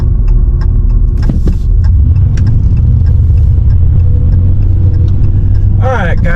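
A 2018 fourth-generation car driving through town, with a steady loud engine and road rumble from inside the cabin, a few knocks and a brief squeal near the end.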